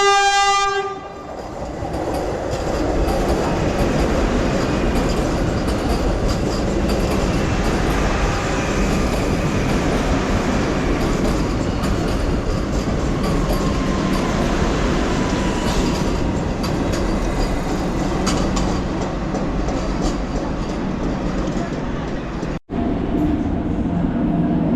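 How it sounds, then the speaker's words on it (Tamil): A Vande Bharat express running from Bengaluru to Coimbatore thunders past close by, opening with a loud horn blast, then a sustained roar of wheels and carriages with rhythmic rail clatter for over twenty seconds. "அடுத்த வந்தே பாரத் ட்ரெயின் இது வந்து பெங்களூர்லேருந்து கோயம்புத்தூர் போயிட்டுருக்கு."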